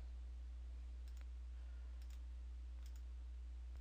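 A few sharp computer mouse clicks while working in accounting software, three brief isolated clicks spaced about a second apart over a steady low electrical hum, faint and close, no talking.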